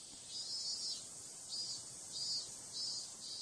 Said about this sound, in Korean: 그 간극을 채우는 건 예나 지금이나 변함없는 우렁찬 매미울음입니다.